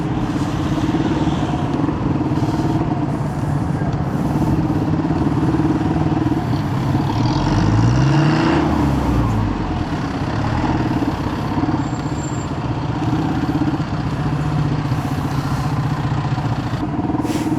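Busy street traffic in Divisoria, Manila, with a steady close engine rumble from cars and motorcycles, a rising and falling engine pass near the middle, and light clatter throughout.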